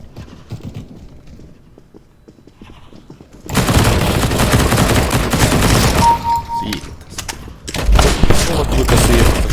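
Counter-Strike gameplay with dense, rapid bursts of gunfire that start suddenly partway through and continue loudly to the end, following a quieter stretch. Voices can be heard at times.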